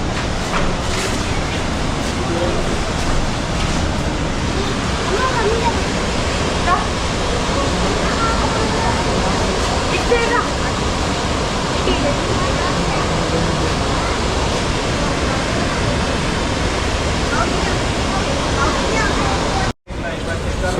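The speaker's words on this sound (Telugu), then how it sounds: "ఇదంతా వాటర్ ఫ్లో ఇలా అటువైపు వెళ్తుంది." Bogatha waterfall seen from above, its water flowing away in a steady, loud broadband rush that fills the whole stretch without a break, ending in a brief dropout near the close.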